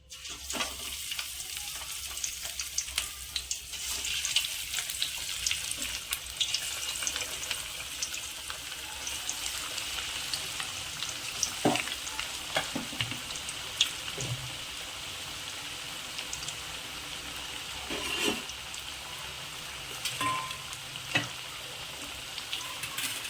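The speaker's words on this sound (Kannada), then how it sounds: "ಸೊ ನಿಧಾನವಾಗಿ ಒಂದೊಂದೇ ವಡಾನ ನಾವಿಲ್ಲೇ ಕರಿಯೋದಕ್ಕೆ ಸ್ಟಾರ್ಟ್ ಮಾಡೋಣ" Chana dal and dill vadas frying in hot oil give a steady, close crackling sizzle with scattered pops, continuing unbroken with no talking.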